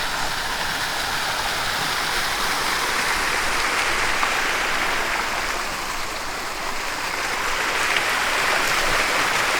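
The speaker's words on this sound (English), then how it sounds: "you've got to have a water fountain." A public water fountain in Yerevan, Armenia splashes in a loud, constant rushing wash, like falling water hitting a basin, unbroken for nearly ten seconds with no talking.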